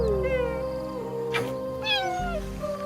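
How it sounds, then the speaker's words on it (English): A cheetah gives a quick series of high, bird-like chirps with upward and downward sweeps, close and clear, over a low background hum. "Cheetahs don't roar like lions, they chirp like birds."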